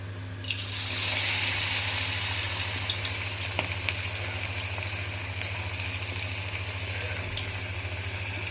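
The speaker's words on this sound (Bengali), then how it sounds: "এবার আমরা একে একে সমস্ত পকোড়াগুলিকে ছেড়ে দেব" Vegetable pakoras dropped one by one into hot oil over a medium-low flame, a steady hissing sizzle with scattered crackles and pops, close and even, over a constant low electrical hum with no talking.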